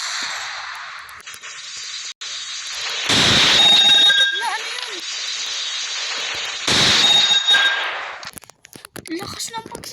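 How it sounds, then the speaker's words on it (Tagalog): Two loud, sharp blasts in a staged bombing during a mayor assassination scene, each bursting out with crackling debris-like tails, separated by a few seconds, with voices speaking around them. "Lakas ng pagsabog."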